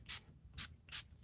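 Three short, evenly spaced bursts of spray paint in bubblegum pink misted onto a painting, each a brief hiss with quiet gaps between, heard alone and close.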